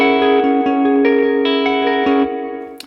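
A clean electric guitar chord rings through a MESA Boogie amp model with lush reverb, a few strums blooming into a long shimmering tail that fades out.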